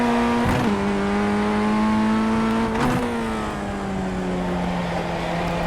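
A race car engine in the iRacing sim holds a steady, loud drone, dipping briefly twice as gears change.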